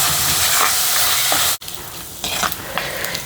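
Onions with green chillies and curry leaves frying in a pan for curry, a loud close hissing sizzle that cuts off briefly, then returns quieter with scattered crackles and stirring scrapes.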